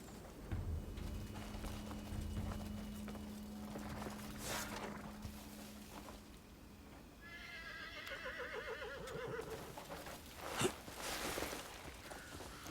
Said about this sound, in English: Horse gameplay feels brilliant.